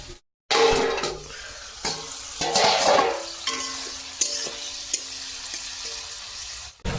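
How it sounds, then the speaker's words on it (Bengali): Ripe bitter gourd frying in a pan, a continuous sizzle broken by bursts of stirring and scraping against the pan, with a brief gap of silence near the start. "তো পাকা উচ্ছে ভেজে নেব।"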